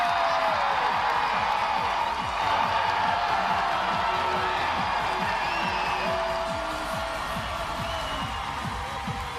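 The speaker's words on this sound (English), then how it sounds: "Roar coming in from the crowd." An arena crowd at a college gymnastics finals roars and cheers in a broad, sustained wash of whoops and clapping, loud and steady throughout with no single voice prominent.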